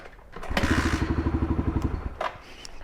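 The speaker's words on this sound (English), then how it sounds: "I pulled in the clutch and I kicked it as hard as I can." A pit bike is kick-started with the clutch pulled in, giving a rapid run of about fifteen rhythmic engine chuffs over roughly a second and a half, close and fairly loud, then a thud as it dies out with no talking.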